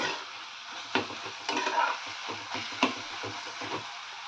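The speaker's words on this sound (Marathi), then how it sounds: "पुन्हा हे चांगलं एक दोन तीन मिनटं चांगलं परतून घ्यायचं टोमॅटो शिज शिज शिजेल इतपत तरी परतून" Tomatoes sautéed in a pan with spice masala, a low steady sizzle punctuated by several distinct scraping and tapping stirs of a spatula, close and without speech.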